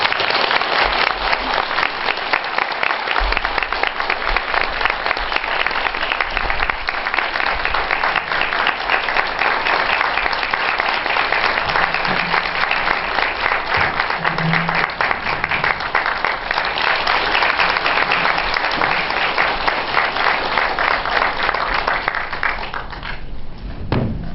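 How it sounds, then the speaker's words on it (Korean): Sustained loud applause from a large lecture audience welcoming Buddhist monk Myeongjin to the stage, dense continuous clapping for over twenty seconds that thins slightly at the very end. "박수로 맞아주십시오."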